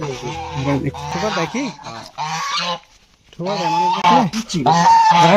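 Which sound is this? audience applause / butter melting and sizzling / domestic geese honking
domestic geese honking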